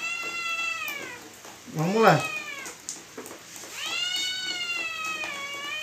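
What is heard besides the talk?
cat meowing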